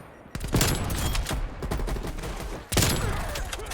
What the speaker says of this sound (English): Just shot him in the foot, but he still died, and a little double kill this.